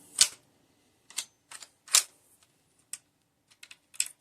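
Several sharp metallic clicks and clacks of a Mosin-Nagant rifle bolt being worked and closed, close and fairly quiet, spaced irregularly over a few seconds with no talking.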